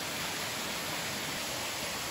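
Waterfall beside a large private open-air hot spring bath at Tanohara Onsen in Aso, heard as a constant, dense roar of falling water, close and unbroken, with no voices.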